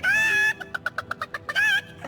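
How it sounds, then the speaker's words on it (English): Chicken clucking in the fantasy role-playing game Divinity: Original Sin, a run of short rhythmic clucks between two longer drawn-out squawks, loud and close with no talk. "Come on, chicken, chicken, chicken."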